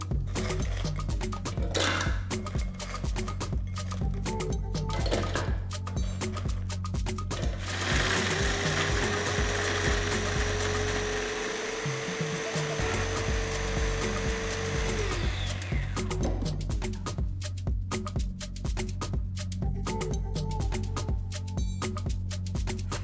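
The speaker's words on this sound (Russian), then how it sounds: "Печенье савоярди измельчаем в крошку" Savoiardi ladyfinger biscuits ground to crumbs in an electric chopper, a loud steady motor whir with rattling blade and bowl noise that runs for several seconds, rises to a high strained whine midway, then drops back to a rattling grind.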